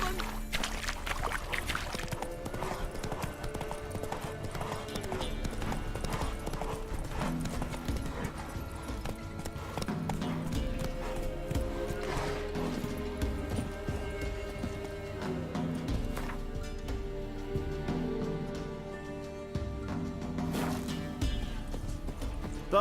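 Horse hooves clip-clopping at a steady galloping rhythm in The Witcher 3 Wild Hunt, loud and continuous alongside game ambience for the whole stretch.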